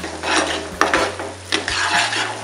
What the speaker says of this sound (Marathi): आपल्याला 2 ते 3 मिनटं सतत परतत राहायचं आहे जेणेकरून आपली जी आलं लसणाची कूट आहे ही